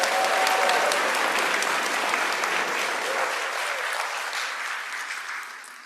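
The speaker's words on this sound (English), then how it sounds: "let's give him a big round of applause" An audience at a graduation commencement applauding, a dense, fairly loud wash of clapping that holds steady and then gradually thins out toward the end.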